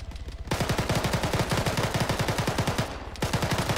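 Sustained automatic gunfire during a military infantry training exercise, fast rapid bursts of shots starting after a half-second pause, loud and close, with a brief lull before firing resumes.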